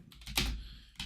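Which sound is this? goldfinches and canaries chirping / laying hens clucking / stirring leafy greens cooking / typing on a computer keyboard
typing on a computer keyboard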